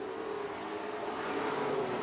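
Dirt track race car engine revving on the high side during a dirt devils and vintage modifieds race night, a steady roaring drone that holds for the whole stretch with a slight rise near the end, mixed with broad track noise.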